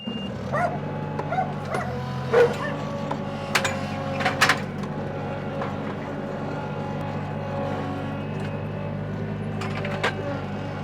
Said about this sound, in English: you can really hear all the puppies next door